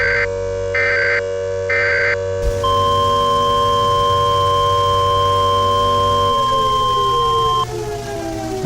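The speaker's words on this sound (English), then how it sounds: "And there are sirens." Loud nuclear power plant warning sirens blare: a pulsing alarm tone repeats three times, then a steady wailing siren holds and slowly drops in pitch near the end.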